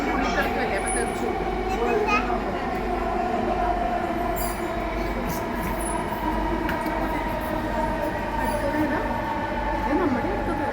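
Train running on rails, a steady loud rumble of wheels and carriage with continuous low roar throughout, faint voices and a platform announcement over the noise.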